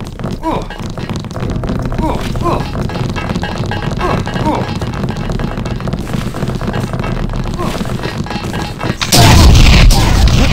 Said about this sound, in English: Plasma fire, collateral damage.